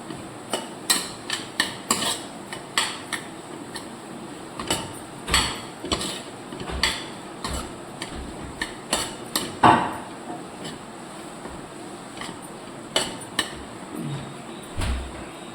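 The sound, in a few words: stirring and mixing masala powders in a pan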